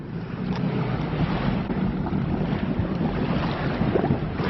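A boat reverses slowly toward the shore with a low engine drone under wind buffeting the microphone and the wash of waves, steady throughout, with no voices.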